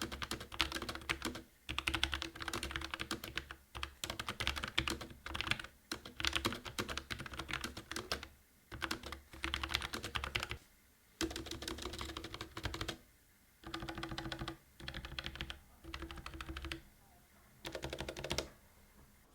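Mechanical keyboard keys clacking in steady bursts of fast typing, close and crisp, with short pauses between runs and no talk.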